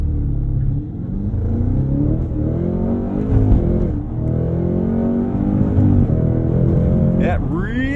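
A Cadillac CT5-V Blackwing with a manual gearbox launches hard, its engine revving and climbing through the gears as it accelerates from inside the cabin. The note stays loud and sustained throughout.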